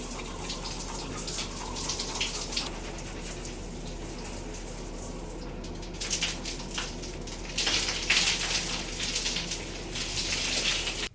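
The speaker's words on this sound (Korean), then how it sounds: "샤워를 한번 해볼까?" A shower runs in a newly built shower room, giving a continuous soft hiss of spraying water that grows a bit louder and more splashy partway through.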